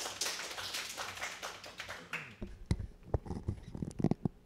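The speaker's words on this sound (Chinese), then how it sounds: "那我们掌声欢迎讲者" An audience at a Ruby programming conference talk claims to be welcoming the speaker, though what is heard is scattered clapping that fades into sparse, separate taps and claps near the microphone.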